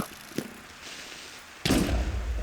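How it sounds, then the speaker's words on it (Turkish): A creeper explodes in Minecraft running a physics mod, a sudden deep booming blast with rumbling tail following a soft earlier click and quiet game ambience. "şöyle creeper patlamasını falan da göstereyim"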